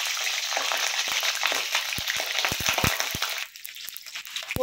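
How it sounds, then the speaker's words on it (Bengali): Cauliflower fries in hot oil in a wok, a loud, dense sizzle with sharp clicks and pops of stirring, easing to a quieter crackle near the end. "তেলের মধ্যে ফুলকপি দিয়ে দেব ভাজার জন্য।"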